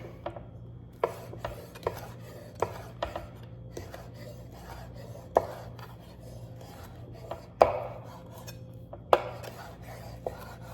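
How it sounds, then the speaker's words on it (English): A knife cuts through kielbasa on a cutting board that shifts as it is used, making a series of sharp, irregular thunks with scraping between them, close and clear, with no talking. "we got them all nice and sliced up, and my cutting board is moving around"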